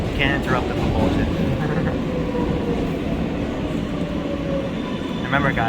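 An R143 L subway train in New York City, bound for Rockaway Parkway, runs with a steady, loud rumble of wheels and motors, and a high metallic squeal rises near the start and again at the end.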